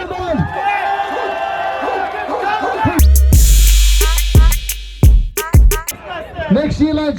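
Crowd at a street car meet cheering and whooping in loud bursts over a background of chatter and music, with sharp shouts and claps rising after the first few seconds.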